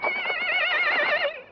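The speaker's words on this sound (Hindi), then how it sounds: "घोड़ा।" A horse gives a single loud, close neigh lasting about a second and a half, its wavering whinny standing alone without talk, in a scene from a Hindi film.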